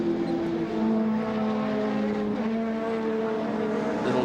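A 1992 touring car races downhill at Wanneroo circuit, its engine roaring loud and close with a steady high-revving drone and shifting pitch throughout.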